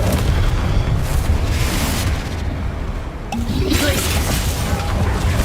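A Confringo explosion spell cast in the video game Hogwarts Legacy: a loud, sustained roar of blasting and crashing with a brief dip before the burst surges back.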